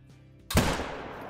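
A single rifle shot fired at a gemsbok in theHunter: Call of the Wild: one sharp, loud, close report after a quiet moment, with a booming tail that rolls away over about a second.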